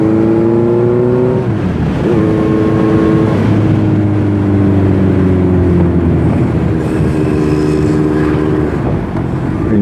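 Honda CB650F four-cylinder motorcycle accelerating hard, a loud smooth engine howl rising in pitch through several gears with brief drops at each shift, heard on board with wind noise.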